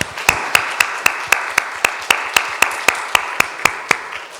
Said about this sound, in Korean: 이분들을 위해서 매번 수고를 많이 하니까 한번 박수 한번 하겠습니다.